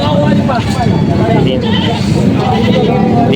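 Goats bleat repeatedly at a busy livestock market in Padre Garcia, Batangas, their close, loud calls overlapping with steady crowd chatter and background noise throughout.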